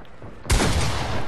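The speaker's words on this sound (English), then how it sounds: "Alright, gunfire." A sudden loud burst of gunfire in a video game erupts after a brief quiet moment and continues as a dense, sustained volley.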